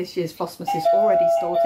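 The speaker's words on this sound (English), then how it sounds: "That's the doorbell." A doorbell chimes with a sustained ringing tone partway through, heard close and clear under a voice speaking over it.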